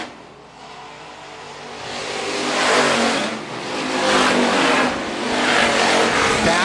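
Hobby stock race cars roar around a dirt track at Phillips County Raceway, engines swelling and fading in loud waves as cars run side by side down the back straightaway, with no clear talk over them.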